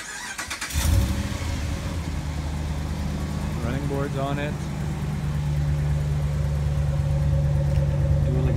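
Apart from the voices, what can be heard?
2013 Ram 1500 5.7 Hemi engine starting and idling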